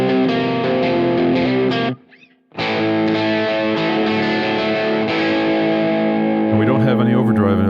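An electric guitar plays a clean tone through the GigFast Mobile amp app with no overdrive, sustained chords ringing loud and close, broken by a brief silence near the middle, while someone talks over the playing.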